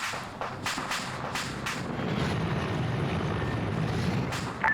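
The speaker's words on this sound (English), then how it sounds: "There's MI-24, guys. Be careful." An Mi-24 attack helicopter in a video game drones steadily and loudly with a rumbling rotor and engine. A few sharp clicks or steps come through early on.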